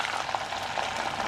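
Curry leaves, garlic and spices frying in hot oil make a steady, dense sizzle with crackling bursts, close and even throughout.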